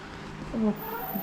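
A house cat gives a short, close meow, a brief rising-and-falling cry lasting under a second, heard indoors over a soft background hum.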